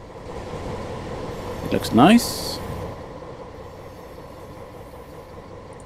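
A train in Train Simulator on the South Wales Coastal route near Cardiff runs along the rails with a steady low rumble, rising briefly into a louder squealing passage midway, partly under a speaking voice.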